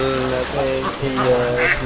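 Ducks quacking on a duck farm that keeps about fifteen hundred ducks, a close, loud burst of overlapping nasal quacks with a voice talking in the mix.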